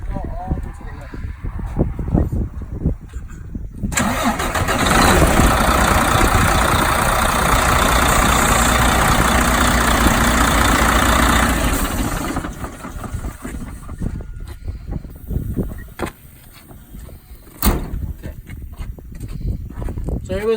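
A truck engine starts and runs at a steady, loud rumble for several seconds during a vehicle inspection, then drops back under ongoing talk and clatter.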